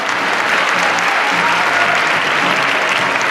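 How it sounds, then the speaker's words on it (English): Loud, sustained applause from a convention crowd cheering a cosplay contestant on stage, a thick continuous roar of clapping with faint voices mixed underneath. "This is a big round of applause for Matuska"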